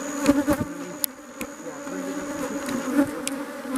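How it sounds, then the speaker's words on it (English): A dense, continuous buzzing of many honeybees during a honey harvest fills the air, a few passing close and louder against the steady hum. "There are so many bees out here"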